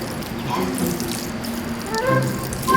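Tap water running for a dog's foot wash to rinse off salt water, splashing and trickling close by in short bursts.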